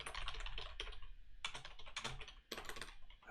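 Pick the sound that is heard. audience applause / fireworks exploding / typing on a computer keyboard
typing on a computer keyboard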